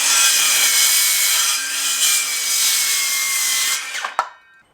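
A DeWalt 20V 6.5-inch cordless circular saw cuts through wood with a loud, steady high whine that winds down near the end, followed by a sharp clack and brief quiet.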